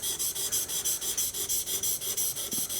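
A steel chisel's steeper secondary bevel, around 30 degrees, is stroked back and forth on a sharpening stone, giving an even run of about sixteen close, steady rasping rubs with no talk over them.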